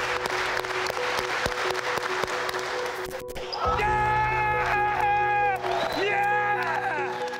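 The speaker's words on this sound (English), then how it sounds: "We'll give you a nice clap, and once you hear the rhythm going, you show it to us." Clapping at a youth basketball camp in Africa, sharp evenly spaced claps for a coach over the first few seconds, then giving way to loud sustained voices and cheering from a crowd.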